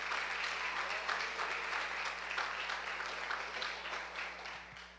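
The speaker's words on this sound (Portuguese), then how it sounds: "aplaude e glorifique o Senhor" A church congregation applauds during a worship service, a dense, continuous clapping that fills the room at moderate volume, with a low steady hum running underneath.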